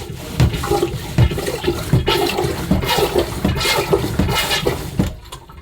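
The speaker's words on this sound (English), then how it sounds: "Put some water in." Marine toilet aboard a boat flushing after its joker valve was replaced, with water rushing and gurgling in repeated surges through the bowl and pipes, close and fairly loud, then cutting off abruptly near the end.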